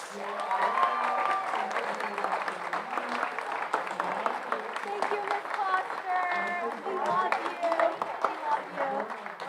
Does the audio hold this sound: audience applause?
yes